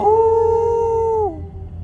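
A human voice imitates a dog howling, holding one long, steady, tonal howl before it drops off sharply at the end, loud and close with no other sounds.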